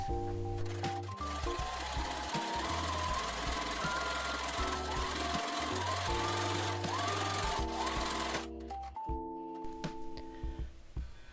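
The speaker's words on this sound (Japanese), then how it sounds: "ミシン目を3にしてギャザー用の粗ミシンをかけます。" A domestic sewing machine running long gathering stitches along a sleeve cap and cuff for a drop-shoulder shirt dress, a steady mechanical whirring with brief stops and restarts near the end, close and fairly quiet.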